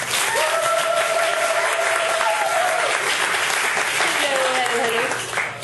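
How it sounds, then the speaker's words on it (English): An evening event audience gives a loud, sustained round of applause that fades slightly at the end, with a voice speaking over the clapping. "Give her a round of applause."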